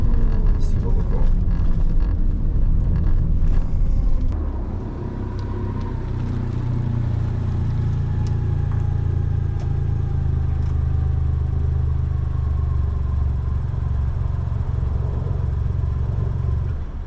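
A BMW M140i engine revs high toward 9,000 RPM and then settles into a loud, sustained low rumble with a steady drone, heard close up.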